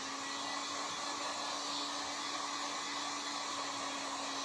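A hair dryer blows a steady, even whir close up for several seconds while a coat on a wooden jewelry box dries; there is no talk.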